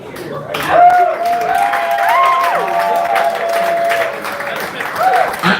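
Audience applause and cheering at a live comedy show in central Minnesota, a sustained crowd of clapping that swells and holds steady, with scattered whistles and voices mixed in.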